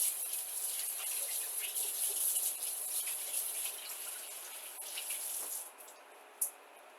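Tap water runs steadily into a sink as hands are washed, a continuous broadband hiss for about six seconds that cuts off, followed by a single faint clink.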